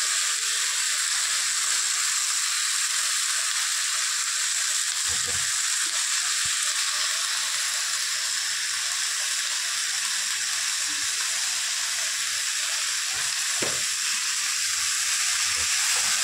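Cabbage sizzles and hisses steadily in a hot pan with fish-head spices, a continuous bright frying noise with a couple of faint knocks.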